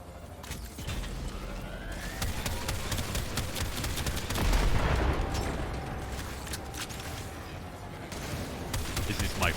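Flak cannon gunfire in the video game Warframe: a dense, continuous barrage of rapid, loud blasts and bursts with a heavier surge midway, heard in a busy game mix.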